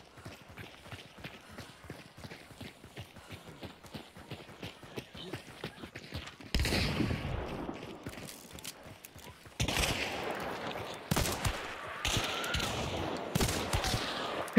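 Video game gunfire crackles in rapid bursts and sustained volleys, loud and close, with quieter clattering shots before it.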